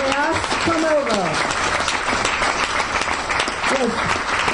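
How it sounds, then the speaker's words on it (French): Audience applause welcoming animator Andreas Deja at a masterclass in a Fnac store, a dense, steady roar of clapping filling the whole stretch, with a presenter's voice speaking over it near the start and again toward the end. "Je vous demande d'accueillir, d'applaudir Monsieur Andreas Deja."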